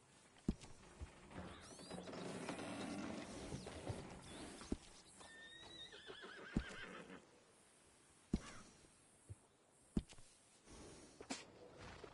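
A horse neighs and whinnies in Red Dead Redemption 2, a drawn-out call near the start, with faint hoof clops and sharp mechanical clicks scattered through the quiet game soundscape.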